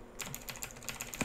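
Rapid clicking keystrokes on a Razer mechanical keyboard, close and crisp, arrive in a quick uneven burst of about a dozen presses.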